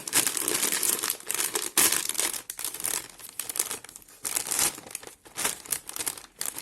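A plastic snack bag of wasabi and soy-sauce flavoured peanuts is torn open and handled up close, loud bursts of crinkling and crackling plastic coming in irregular waves.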